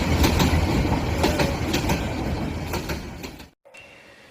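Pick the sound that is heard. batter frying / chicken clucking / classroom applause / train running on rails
train running on rails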